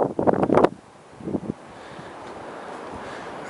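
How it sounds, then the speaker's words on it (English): Strong gusts of about 40 mph buffet a microphone beside a boat on the water, with two heavy rumbling blasts early on that give way to a steady low roar. "Wind noise here. About 40 mile an hour wind gust today,"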